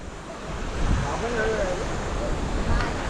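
Sea waves wash onto Hedvi beach on the Guhagar coast in a steady broadband rush, with wind buffeting the microphone and a few faint tonal sounds over the surf.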